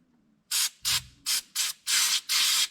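An aerosol can of hand cleaner is sprayed onto a rag in six short, sharp hissing bursts at close range, the last two held a little longer.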